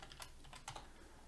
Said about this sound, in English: Why am I even typing this?